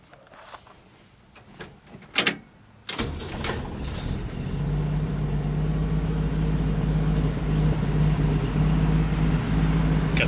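A 1960 Chevrolet Impala four-door sport sedan engine cranks with a couple of quick bursts, then fires and settles into a steady, loud, close idle with a low droning hum, no talking over it.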